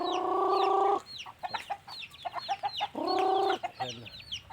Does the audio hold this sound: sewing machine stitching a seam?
no